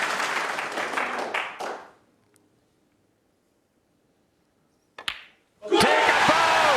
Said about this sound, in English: just listen to this crowd.